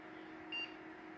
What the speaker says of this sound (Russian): Все пикает, все работает.